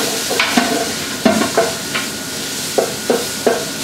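Meat for kangaroo pie sizzles in a hot pan, with a steady fry hiss broken by several sharp scraping stirs at irregular intervals.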